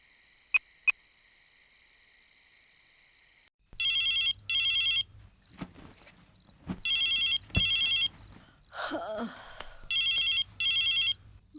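A phone ringtone for an incoming call in a Tamil comedy film scene sounds in repeated bursts of bright electronic tones, alternating with quieter passages of speech and background noise.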